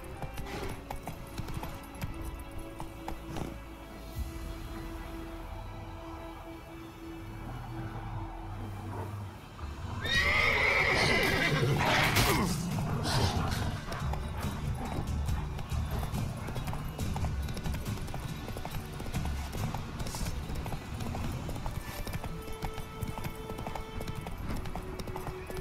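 Roach the horse gallops in The Witcher 3, rapid hoofbeats drumming steadily once the run begins, with a short neigh as it starts over a continuous outdoor ambience.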